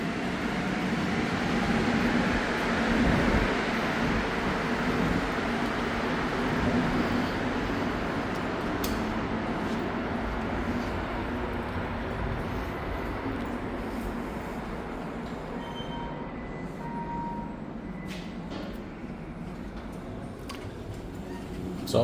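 MR-73 Montreal Metro train running on the Green Line between Viau and de l'Église stations, a continuous rumbling interior ride with steady rolling noise, slowly easing off, with faint squeals and clicks near the end.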